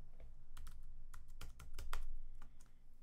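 Keys on a computer keyboard are pressed in short, uneven bursts, close and clear, as a command is typed into a Windows Run box, with no one talking.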